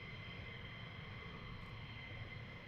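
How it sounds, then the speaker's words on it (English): Jet engines of F-15 fighters at RAF Lakenheath roar as a steady, dense, continuous rumble throughout, loud and unbroken, with no talking over it. "so you can listen to the roar of the engines"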